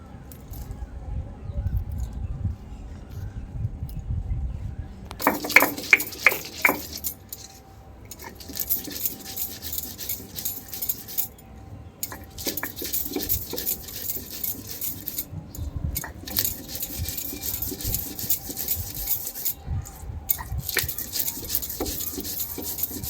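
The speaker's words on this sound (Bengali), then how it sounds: "সর্ষে আর কালো সর্ষে দুটোই রয়েছে। আমি এগুলো শিলে নিয়ে নেব।" Mustard seeds, black mustard and green chillies ground on a stone slab, a rhythmic rasping scrape repeated steadily back and forth, close and moderately loud, with brief pauses.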